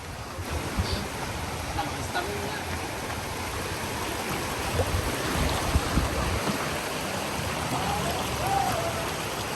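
River stream rushing steadily on a weekend outing, a broad continuous wash of flowing water with no break, moderately loud and close.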